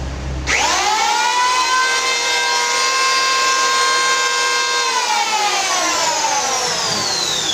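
An electric wood planer starts up and spins to full speed with a rising whine, then runs at a loud, steady, high-pitched pitch without cutting, alone with no talking.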